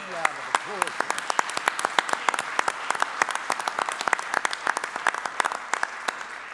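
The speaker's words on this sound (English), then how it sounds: "let's give a big round of applause for them" An audience at a keynote talk gives a sustained round of applause. Many hands clap in a full, even roar, with sharp individual claps standing out throughout, and the sound holds steady for the whole stretch.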